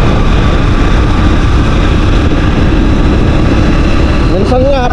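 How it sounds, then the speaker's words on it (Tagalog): A Honda Supremo motorcycle engine runs loud and close with a steady, dense roar throughout, with a brief rising whine near the end. "napakalakas ng makina ni Supremo."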